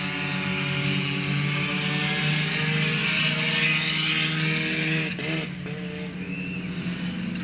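Race cars circling Talladega Short Track in 2007 make a steady, loud engine roar with layered harmonic whine, holding constant with a brief Doppler-like dip near the end as a car passes.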